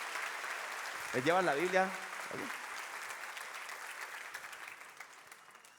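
Church congregation applause, a soft, steady patter of clapping throughout that gradually fades, with a voice briefly speaking over it near the start.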